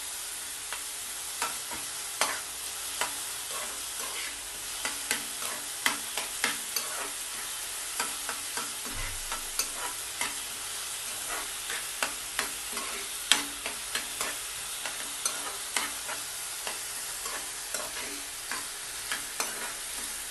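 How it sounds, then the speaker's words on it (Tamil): Onions and tomatoes sauté in a pan with salt added, a steady crackling sizzle broken by frequent sharp scrapes and clicks of stirring, close and fairly quiet, with no voices. "இந்த தக்காளி வெங்காயம் நல்லா வதங்கிட்டு கொஞ்சம் போல் உப்பு சேர்த்துக்கிட்டோம்"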